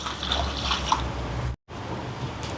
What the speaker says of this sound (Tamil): இதோட ரசத்துக்கு தேவையான அளவு தண்ணி சேர்ப்போம்